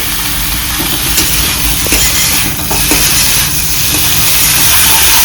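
Tomatoes and spices fry for a chicken curry, giving a loud, continuous sizzling hiss close to the pan with a few light pops and crackles.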